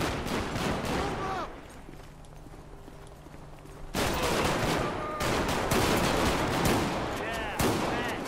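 Loud bursts of gunfire in GTA 5, dense and repeated, with a quieter stretch in between and sharp reports near the end.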